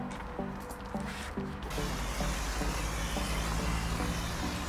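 Ionic contact cleaner foam being applied to cladding with a sprayer, a steady wet hissing spray running throughout with soft squishing, alongside a rhythmic clicking pattern of short knocks.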